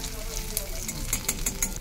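Chopped capsicum frying in hot oil gives a steady close sizzle with faint crackles and a few sharper pops, with no voices over it.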